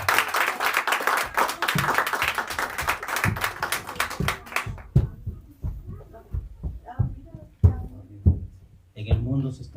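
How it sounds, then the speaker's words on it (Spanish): A church congregation claps loudly together for a few seconds, then the applause thins to scattered claps as people begin speaking nearby. "Podemos darle una ofrenda de palmas al Padre,"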